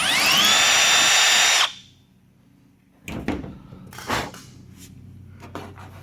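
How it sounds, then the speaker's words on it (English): A power drill with a 1/8 inch bit whines at high speed for under two seconds, then stops; afterward come a few knocks and handling clunks. "we took out an 1/8 inch drill bit and we'll try that"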